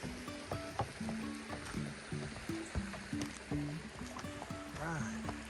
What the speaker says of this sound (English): This trail here runs right alongside this creek for a while.